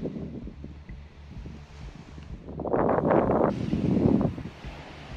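Steady wind gusts at a beach, roaring into the microphone with rustling noise that swells louder midway through, with no voices.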